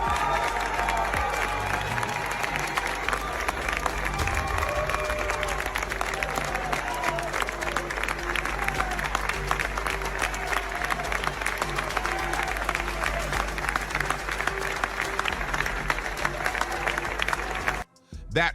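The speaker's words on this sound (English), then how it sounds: "Everyone around him was standing and clapping, but Leanna, she was the last to get up" A large crowd at the Heisman Trophy ceremony applauds continuously, dense clapping and some cheering filling the hall for many seconds before cutting off abruptly near the end.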